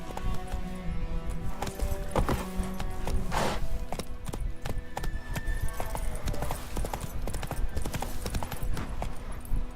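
Hooves of Roach, the horse in The Witcher 3 video game, clattering in a fast galloping rhythm over steady ambient game sound, loud and continuous throughout.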